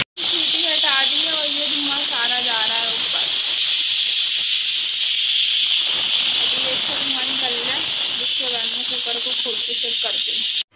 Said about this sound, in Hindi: अभी मैंने कुकर का ढक्कन खोल लिया